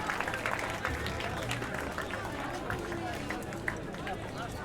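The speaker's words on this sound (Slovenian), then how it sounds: "Miha Habjan vseeno zasluži velik aplavz." Spectators clapping at an ice climbing competition final in Domžale, a steady crowd applause that carries on throughout beneath continuous talk from a commentator.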